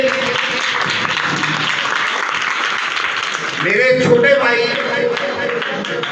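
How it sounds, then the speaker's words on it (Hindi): Steady crowd clapping at an annual community meeting runs throughout, and a voice speaks over it partway through. "खूब तालियां लगाएं हाफिज साहब के लिए।"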